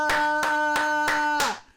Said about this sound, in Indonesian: Yang percaya kasih tepuk tangan,